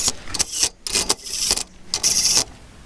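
Torque wrench ratcheting as differential bearing caps on a Willys CJ-2A rear axle are tightened to 60 foot-pounds, several bursts of close, crisp clicking separated by short pauses.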